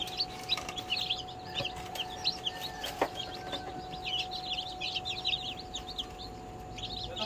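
Newly hatched Black Australorp, White Leghorn and Barred Rock chicks peep constantly in a busy overlapping chorus of high, rapid chirps, close and moderately loud, with a faint steady hum underneath.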